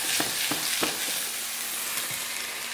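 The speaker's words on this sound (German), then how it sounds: "Pfanne auf der Seite kurz anbraten, auf der Oberfläche dann umdrehen." Food sears in a hot frying pan with a steady close sizzle and a few soft clicks at the start, no voices.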